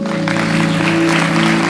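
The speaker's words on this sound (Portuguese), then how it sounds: "Você pode aplaudi-lo?" A church congregation applauds in a steady wash of clapping, heard over sustained organ-like musical tones throughout a short stretch.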